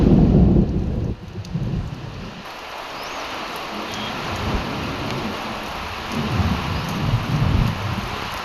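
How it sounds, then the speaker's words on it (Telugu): Heavy rain pours down in a steady, dense hiss. A deep thunder rumble stands out at the start and low rolling noise continues under the downpour. "2 గంటల పాటు ఉరుములు మెరుపులతో ఏకధాటిగా వర్షం పడింది."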